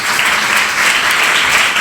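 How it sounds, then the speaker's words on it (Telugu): A church congregation clapping loudly during a special worship service, a dense, continuous burst of many hands close up, filling the short stretch with no voices over it. "గట్టిగా చప్పట్లు కొట్టండి"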